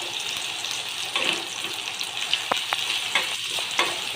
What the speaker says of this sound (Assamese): এইখিনি মই ভাজি থাকিম যেতিয়ালৈকে ৰঙচুৱা নহয়, তেতিয়ালৈকে ভাজি থাকিম।